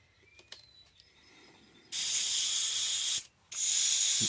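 An airbrush sprays paint in two quick test passes, a loud steady hiss that briefly cuts out between bursts, following a few faint clicks and taps of the cup and trigger.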